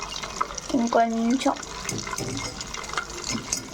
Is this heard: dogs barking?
no